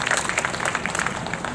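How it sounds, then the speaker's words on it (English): Audience applause at a grand opening ceremony for a public art piece built from recycled wood, a steady mass of claps filling the short clip without a break. "give him a round of applause"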